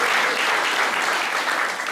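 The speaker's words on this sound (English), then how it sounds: "I can't believe you applauded at that." Audience applause at a stand-up comedy show fills the room, a dense, loud wash of clapping hands held steady for the whole stretch.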